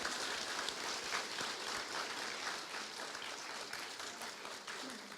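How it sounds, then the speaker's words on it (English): A prizegiving audience at Melville High School applauds its teachers and leaders. The clapping sounds faint and distant but stays continuous and evenly dense throughout. "So let's give them a round of applause."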